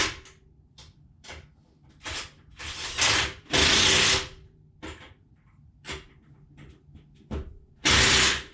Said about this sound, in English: Looks like we could put some lug nuts on it first.